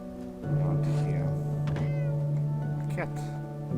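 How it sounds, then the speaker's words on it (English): A cat meows in the video game Fallout 4, with a sustained low tonal hum under it, a few short close meows and someone talking over part of it. "Cat."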